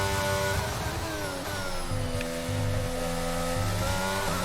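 An F1 race car engine screams through a lap in the video game F1 22, pitch rising and falling with gear shifts and revs, loud and steady with no talk.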